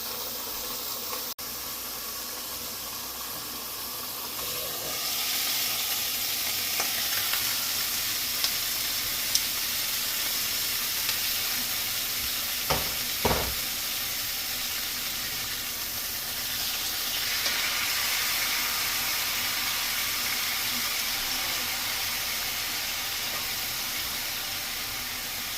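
King oyster mushroom steaks sear in a hot pan, a steady broadband sizzle holding for the whole stretch with a few brief sharper crackles midway, no voices over it.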